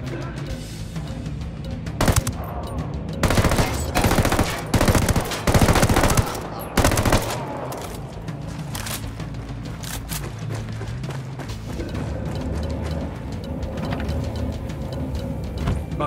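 Firefight gunfire in the video game Ghost Recon Wildlands during the final mission, with repeated loud bursts of automatic fire in irregular clusters, then a quieter stretch of distant background shooting and game ambience.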